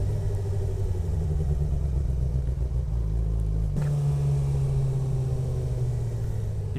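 A 2025 Suzuki GSX-R 600 motorcycle engine drones steadily while riding, with a deep continuous rumble and a pitch shift midway as the gear or throttle changes, loud and close throughout with no talking.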